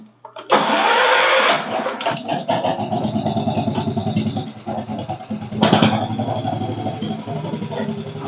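A Sears garden tractor engine cranks and catches, then settles into a loud, steady, slightly uneven idle close by, with a brief surge partway through.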